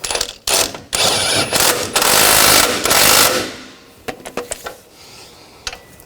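A wrench snugs down the bolts on a rear lower outer ball joint of a 2000-2006 BMW X5, with a close, loud run of metallic ratcheting clicks and grinding that ends in a few scattered clacks.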